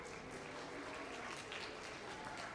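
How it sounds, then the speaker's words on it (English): Quiet audience applause at an orchestra concert, a soft, even patter of clapping with a low hum underneath, heard faintly and at a distance throughout. "And the crowd quietly goes wild."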